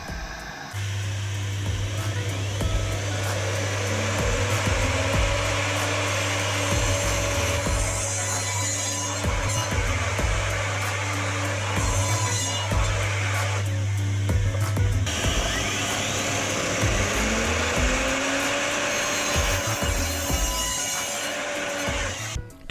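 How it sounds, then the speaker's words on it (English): A power saw rips through wooden slats for a chair, with a loud steady motor whine and repeated cutting passes that rise and fall across several cuts, no talking. "it's time to cut all these slats into its final dimensions"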